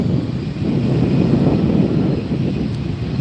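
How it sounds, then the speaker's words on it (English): Steady, loud engine roar from an Aer Lingus Airbus A330-300 airliner at LAX airport, a broad low rumble holding constant throughout with no voices. "You're looking at the Aer Lingus Airbus"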